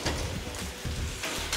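Steady rain falls at a house under construction in Haryana, a continuous broadband hiss with no voices over it.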